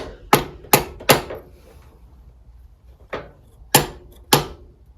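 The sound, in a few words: metal linkage parts clanging while fitting a gearbox oil seal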